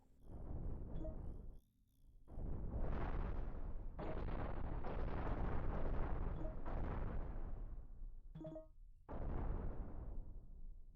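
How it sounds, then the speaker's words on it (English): Spaceship parts blow apart in Cosmoteer battle, a string of loud rumbling explosions and blasts with brief gaps and a short sharp crackle near the end, no talking. "the control room explodes too"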